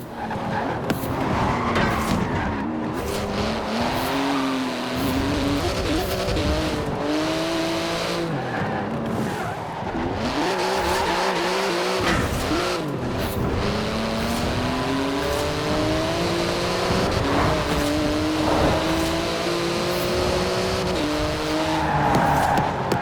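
A high-revving Porsche 911 GT2 RS engine races continuously in Forza Horizon 4, shifting up and down through gears, with tires squealing at moments.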